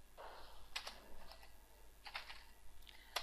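Code typed on a computer keyboard in short clustered bursts of quiet key clicks with brief pauses between, close and alone.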